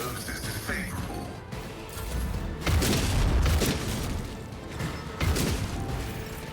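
Turrets firing in a video game: heavy booming bursts and mechanical rattling blasts in a dense, loud mix, with a couple of stronger impacts standing out and some talk underneath.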